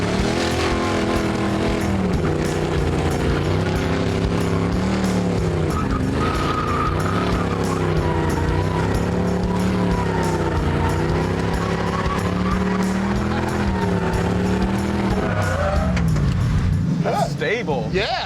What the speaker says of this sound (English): We'll just warm on the tires, huh?